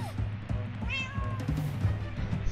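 A cat in Minecraft Story Mode lets out a clear, rising meow in the middle, with short thumps and game noise beneath it.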